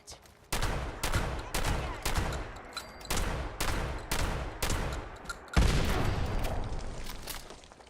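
Loud bursts of gunfire and blasts in the video game Fallout 76, arriving in rapid repeated volleys about every half second, each with a booming tail, with no talking.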